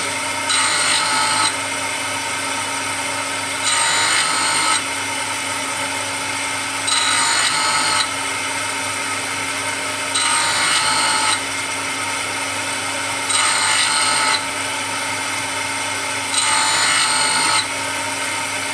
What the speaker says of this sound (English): I'll grind those facets a bit more